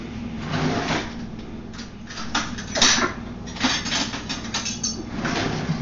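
Plate, knife and spoon are gathered for making a peanut butter and jelly sandwich: close clinks and clatters of dishes and cutlery, with soft sliding and handling noises in irregular bursts.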